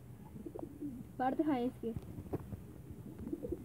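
A Ferozpuri and Teddy cross-breed pigeon gives a brief throaty coo close by, set among continuous Hindi speech from a nearby man.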